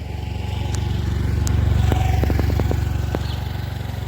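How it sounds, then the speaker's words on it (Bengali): Motorcycles lined up at a crowded Charak fair, with a steady, close, idling engine drone and a few brief higher tones over it. "অনেকটা দূর পর্যন্ত বাইকের লাইন পড়ে গেছে,"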